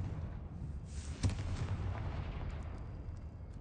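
The Confringo fire spell in the Hogwarts Legacy video game goes off as a single booming blast, followed by a rumbling fiery tail and scattered crackles.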